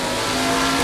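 Race car engine from the Assetto Corsa racing game roars at high revs, a loud sustained whine held steady through the short moment with no talk.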